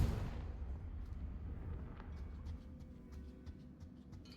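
A Confringo spell blast in Hogwarts Legacy, one sharp booming burst at the very start that fades quickly into a low rumbling tail with faint scattered crackles.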